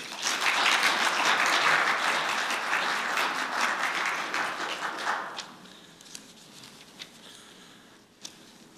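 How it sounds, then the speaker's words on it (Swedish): A seated audience applauds a panel at a talk on religion and politics in the USA, with full clapping for about five seconds that fades into a few scattered, isolated claps in a quiet room. "Då tycker jag vi välkomnar panelen med en applåd."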